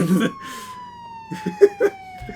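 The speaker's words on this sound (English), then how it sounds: "Can we end the episode with, like, police sirens?" A police siren wails steadily in a long, slowly falling tone while people talk over it nearby.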